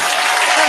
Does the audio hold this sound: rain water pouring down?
no